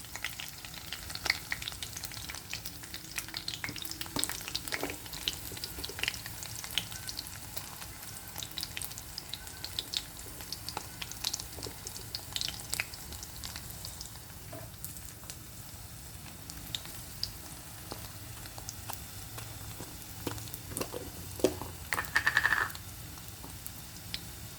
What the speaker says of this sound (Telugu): ఎండుమిరపకాయలు వేయాలండి.